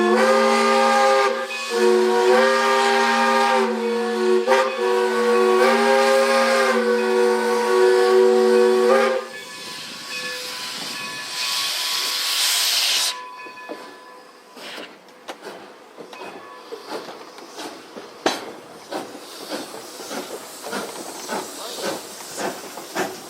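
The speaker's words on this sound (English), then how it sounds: "So check this out, the Nevada Northern Star Train." A loud steam whistle on the Nevada Northern Railway's locomotive number 40 blows with sustained tones for several seconds, then gives way to hissing steam and the rhythmic chuffing and clanking of the running locomotive.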